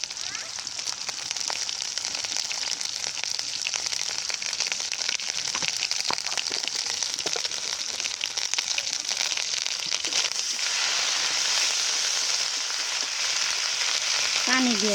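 Ginger-garlic and cumin paste sizzles in the oil left from frying fish, with onions and chillies already fried, for a thin fish and banana curry. The frying hiss is loud and steady throughout, with occasional crackles and a voice faintly underneath.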